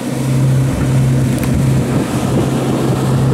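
Steady low drone of a powerful motorboat engine running on a river, continuous and close with a constant hum, accompanied by wind noise.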